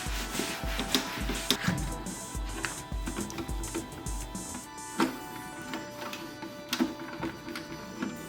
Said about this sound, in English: I'm just going to take the alcohol and just sort of give it a little bit of a bath